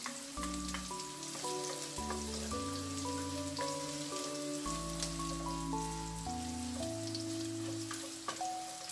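Chopped garlic sautéing in a hot pan while cooking beef with broccoli, giving a steady, close crackling sizzle that runs the whole time beneath louder background music.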